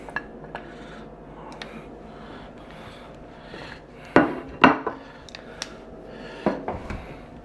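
Country-style smoked ribs lifted out of a caramelized tinfoil pan, with a few sharp crinkling foil and clattering handling sounds after a quieter stretch of light rustling, close to the listener.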